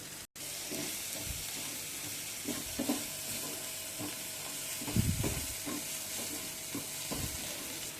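Egg bhurji frying in a pan for a street-style egg recipe, a steady broadband sizzle running throughout with irregular scraping stirs and clacks of the spatula, close and fairly loud.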